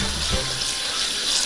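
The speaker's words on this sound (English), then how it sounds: "we're going to rinse these off just one more time." Morel mushrooms get a final rinse under running tap water, a loud, continuous splashing hiss from a kitchen faucet and sink that holds steady throughout with no voices.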